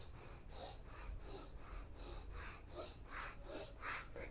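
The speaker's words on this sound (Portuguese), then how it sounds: "você vai basicamente fazer a respiração do Bhastrika Pranayama usando aqui essa região abdominal" Rapid Bhastrika Pranayama breathing is driven from the abdomen through the nostrils as a quick, even series of about ten sharp, close, quiet snorting puffs, without speech.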